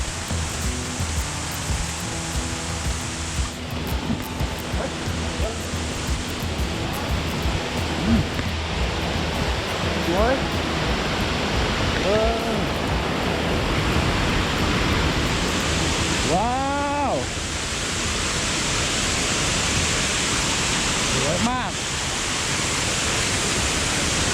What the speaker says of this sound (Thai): ก็เป็นน้ำตกที่สวยงาม